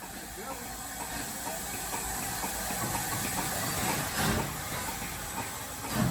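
An S160 steam locomotive departing with empty coaches on the Churnet Valley Railway hisses and chuffs steadily, with a broad rumbling noise and a louder surge of steam near the end.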